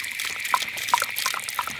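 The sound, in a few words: water running from an outdoor tap opened with a key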